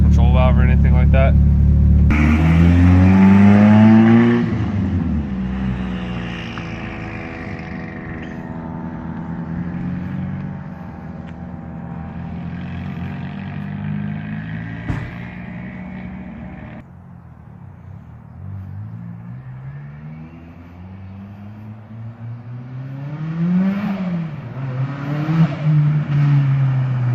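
A Nissan KA24DET engine running without an idle air control valve fires up loud and close, then settles into a rough, droning idle around 1,000 rpm through its exhaust, with rising and falling revs toward the end.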